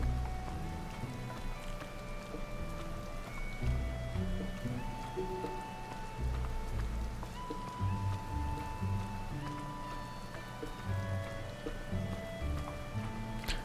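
Steady rainfall in the village of Hateno in the video game Zelda: Tears of the Kingdom, a soft continuous patter on surfaces with scattered faint drips and a low ambient bed, no talking.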